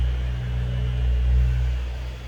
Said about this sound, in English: That was a pickup truck, a Japanese pickup truck.